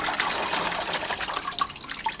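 Water is poured through potted orchids, including a small Rothschildianum paphiopedilum, for flushing, giving a steady close splashing and trickling wash with a few brief drips toward the end.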